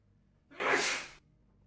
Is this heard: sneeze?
yes